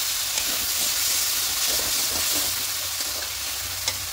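Spice masala of turmeric, cumin, coriander and Kashmiri chilli powder sizzling in a pan as a little water goes in, a loud, continuous steamy hiss with soft stirring taps throughout and no talking.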